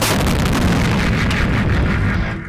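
Heavy artillery fire from a Zuzana 2 self-propelled howitzer, a dense, continuous rumbling roar of blasts that stays loud throughout.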